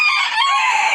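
Hens squawk loudly and close up inside a freshly cleaned chicken coop, a brief burst of shrill clucking with no voices.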